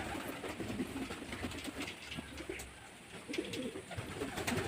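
Pigeons kept at a home coo softly in repeated low murmurs over a steady background rumble, fairly close and alone.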